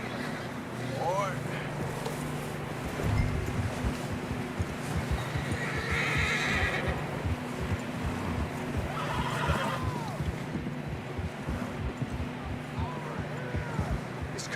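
Horses from the Red Dead Redemption 2 game neigh and whinny several times over steady clip-clopping hooves, loud and close, with a voice talking over parts of it.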